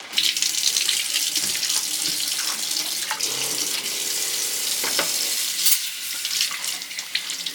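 Water runs steadily from a tap into a sink aboard a boat while laundry is rinsed, a continuous close splashing hiss with a few brief clinks.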